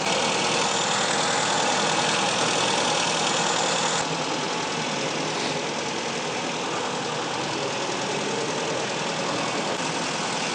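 A Skoda Favorit car engine, with about 1.5 million km on it, idles steadily after an oil change, a loud continuous close drone that shifts slightly in tone partway through.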